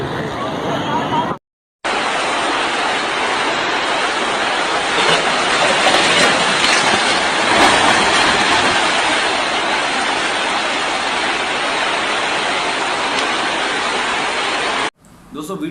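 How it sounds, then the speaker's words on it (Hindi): Clean running water flows into a dirty drain in Karachi, a steady, loud broadband rushing that runs unbroken for many seconds between brief cuts at the start and end. "पानी चलता हुआ साफ पानी है जो जाके गंदे नाले में मिल रहा है"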